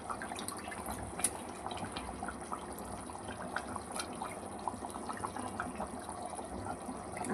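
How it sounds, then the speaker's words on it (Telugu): Coriander leaves being washed and rinsed in water in a home kitchen while mutton curry cooks, giving a steady soft splashing and trickling with small irregular drips throughout. "ఇలా వాటర్లో కడిగి క్లీన్ చేసి వేసుకోవాలి."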